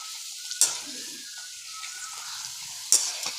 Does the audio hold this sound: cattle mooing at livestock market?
no